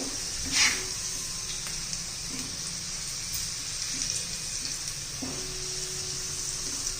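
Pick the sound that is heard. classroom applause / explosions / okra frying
okra frying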